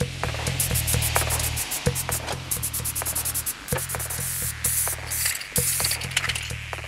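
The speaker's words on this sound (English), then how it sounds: "I'm worried that the paint spray might actually roll it around." Spray paint hisses in repeated bursts onto a large aluminum icosahedron, a twenty-sided die shape, with short pauses between passes and a steady low hum underneath.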